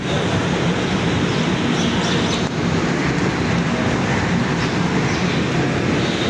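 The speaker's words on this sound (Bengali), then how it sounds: "গাইস তোমাদের ট্রেন এই মুহূর্তে ধানবাদ ছেড়ে দিল।" Train 12353 Howrah–Lal Kuan Weekly Superfast pulling out of Dhanbad Junction, a loud, steady rumble and rattle of the moving carriages heard from on board, with no voices.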